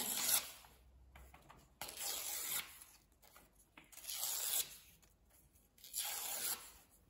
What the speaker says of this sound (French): on va déchirer les bouts